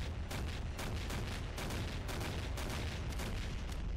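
Dense, continuous booming and rumbling explosions from tanks being destroyed in a Garry's Mod NPC battle between Star Wars AT-ST walkers and modern military tanks, with sharp bursts layered over a steady low roar and no talk.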